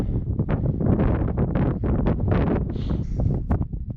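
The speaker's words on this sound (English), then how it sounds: "so it's quite windy" Strong gusty wind on the mountainside of Mt Taranaki buffets the microphone in loud, continuous rumbling bursts, roaring throughout with no voices.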